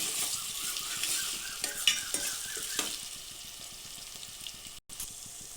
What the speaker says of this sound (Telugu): ఉల్లిపాయ ముక్కలు వేగిపోయినాయి కదా ఇందులో ఈ అల్లం వెల్లుల్లి పేస్ట్ బాగా యాగనివ్వాలండి